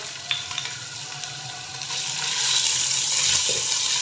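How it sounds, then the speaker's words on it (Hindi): Small cubes of chicken fry in a little oil in a pan, a continuous sizzle that builds louder toward the end, with a few faint clinks early on. "सेम पैन में थोड़ा सा और ऑयल ऐड करके इसके अंदर हम चिकन ऐड कर देंगे"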